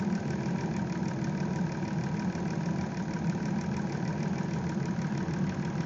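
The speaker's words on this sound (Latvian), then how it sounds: "Tad, kad motors ir sasniedzis darba temperatūru un šitā burbuļo" A Chrysler Town & Country engine idles steadily with a blown head gasket that sets the coolant bubbling, giving a continuous close, even mechanical hum with no voices.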